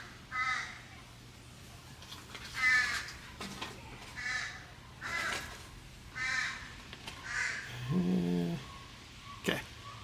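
Crows cawing outdoors, a series of harsh, moderately loud calls repeating every second or so over a steady low hum, with no talk.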